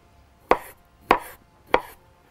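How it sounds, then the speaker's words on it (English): A knife chops firm butternut squash into cubes, three sharp, evenly spaced cuts against a board, close and clear with no talking. "it's not too mushy, so it cuts very nicely into cubes"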